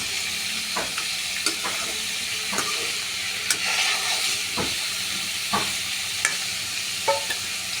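Pumpkin and ash gourd being stirred in a cooking pan while lightly frying, with a steady sizzle and hiss broken by irregular scraping clicks of the spoon against the pan, close and clear, no talking.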